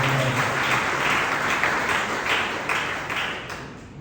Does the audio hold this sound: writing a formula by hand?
no